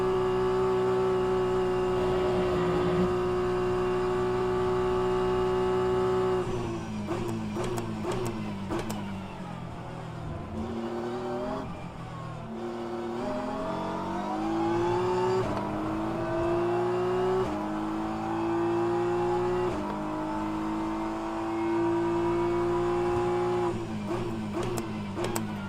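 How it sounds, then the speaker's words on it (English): A Porsche GT3 race car in a sim racing game roars steadily down the straight, engine pitch climbing through gear changes with brief dips at each shift, loud and continuous with no voices. "Porsche seemingly goes brrr on the straight line"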